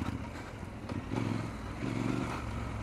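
Triumph Scrambler 1200 XE motorcycle engine droning steadily while riding, with the low rumble swelling slightly louder midway through and staying continuous, no talking.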